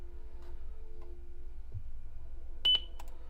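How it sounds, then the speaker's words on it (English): A single sharp, loud electronic beep sounds during repair work on an Alienware motherboard, short and piercing over low background hum. "Ooh, that beep is loud."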